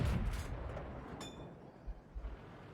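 A tank cannon fires in World of Tanks with a deep, booming shot, followed by low rumbling and a few muffled thuds at a moderate distance.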